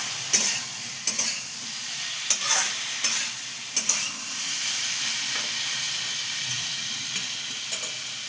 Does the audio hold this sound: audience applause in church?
no